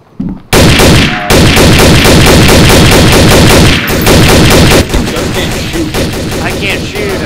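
Loud, continuous rapid gunfire from a multiplayer zombie shooter video game, dense automatic bursts filling the whole stretch after a brief quiet start, with faint voices underneath.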